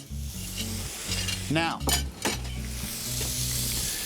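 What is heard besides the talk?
striploin steak sizzling on a hot grill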